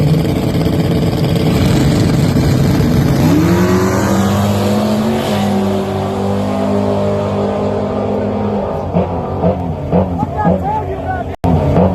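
A True Street drag race car launches at Dallas with a loud, close engine roar that climbs in pitch as it pulls away and slowly fades; voices are heard talking over it.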